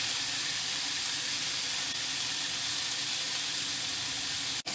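Cheese griller sausages sizzle steadily in a hot pan for a South African hot dog, a constant close hiss with no talk, ending in a brief dip.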